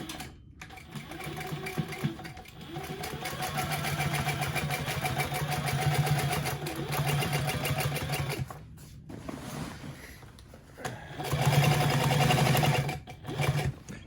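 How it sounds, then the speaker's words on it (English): A Sailrite Fabricator sewing machine punches through a thick stack of roughly four layers of canvas and seven of sailcloth, its motor whirring and needle thudding in long steady runs, broken by brief pauses, loud and close. "here's our ultimate test of the Sailrite fabricator"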